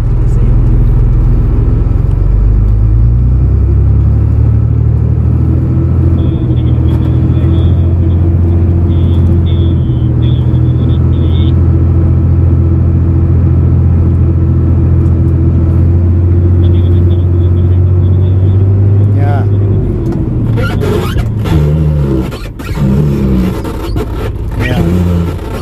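A car in a driving test creeps forward, its steady low engine rumble and drone running throughout, shifting near the end as the car stops; people talk over it.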